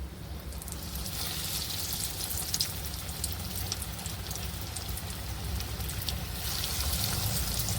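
Pakoras sizzle in hot oil over a low gas flame, a continuous crackling fry with scattered pops and spits close by, growing slightly louder toward the end.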